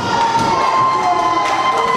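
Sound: wrestling crowd cheering

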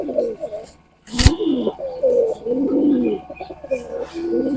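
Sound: Sirazi fancy pigeons cooing

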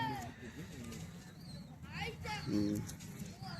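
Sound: pigeon cooing

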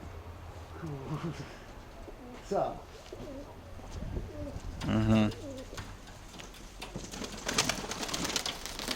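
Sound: pigeon cooing

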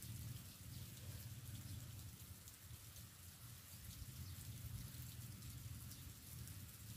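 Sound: rain falling during a typhoon

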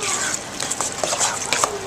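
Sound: stirring chicken pot pie filling in a pot

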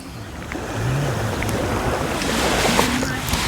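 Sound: sea waves on the shore

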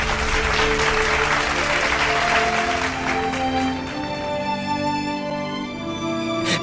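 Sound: applause for a contestant

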